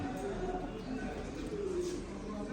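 Pigeon cooing softly in a loft, low rolling coos repeating over a faint background hum, with a voice murmuring nearby.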